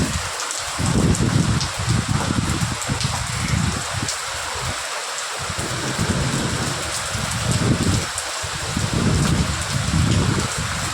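Steady heavy rain pours down in Nizamabad after a long hot, dry spell, a dense, continuous hiss of drops on surfaces with low rumbling swells throughout and no talk.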